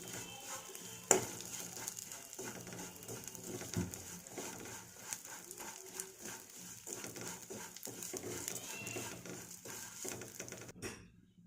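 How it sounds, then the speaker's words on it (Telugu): Vermicelli fries in a pan for sweet semiya payasam, a steady soft sizzle and patter with light stirring clinks and scrapes, quiet and close throughout. "ఇందులోనే కప్పు సేమియాన్ని యాడ్ చేయాలి. ఫ్రై చేసుకోవాలి."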